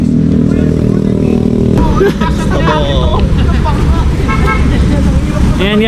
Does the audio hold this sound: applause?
no